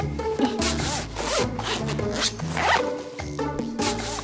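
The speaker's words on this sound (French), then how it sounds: "Ce sont les fermetures à glissière que nous appelons communément fermetures éclair" A clothing zipper drawn open and closed repeatedly, a close, loud ratcheting rasp in quick back-and-forth strokes.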